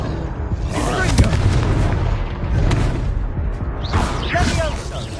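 Fiery Confringo spell blasts in Hogwarts Legacy go off as a run of booming explosive bursts, several heavy impacts in quick succession with crackling debris, close and loud, with a voice calling out over them.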